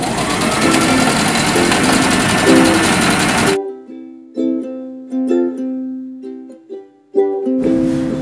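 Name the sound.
sewing machine stitching a seam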